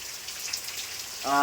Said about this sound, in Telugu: ఒక్కటే రకంగా వర్షం అయితే కొడుతుంది చూడండి